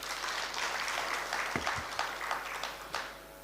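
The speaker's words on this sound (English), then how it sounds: "A good clap for Akoto." An audience at a high-level leaders' breakfast meeting claps for Akoto, a steady wash of hand claps filling the room for a few seconds, moderately loud and fairly close, with no voices over it.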